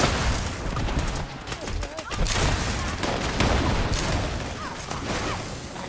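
Pistol gunfire from Fallout 76, the short-barrelled handgun fired in rapid repeated shots over a dense, continuous game soundscape, with a voice talking faintly underneath.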